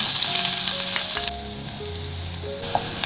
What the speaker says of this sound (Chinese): 再来起锅热油，把配菜放进来炒香